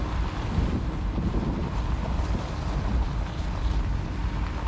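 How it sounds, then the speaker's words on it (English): Strong, icy wind blows hard across an exposed mountain cliff top in cloud, roaring and buffeting the microphone continuously in loud, uneven gusts with no voices. "The winds are really bad. Yeah, it's blowing really hard."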